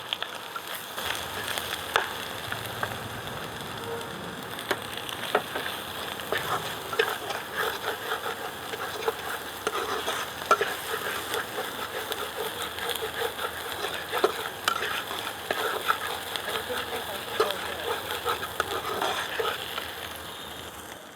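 Chili paste frying in a pan with salt and turmeric for a pangas fish dish, giving a steady, moderate sizzle with soft crackle throughout and no talking.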